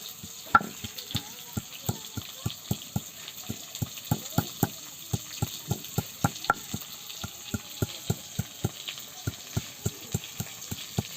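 Potatoes fry in oil in a pan, a soft steady sizzle broken by regular sharp clicks and taps, likely from stirring or the utensil against the pan, close and without speech.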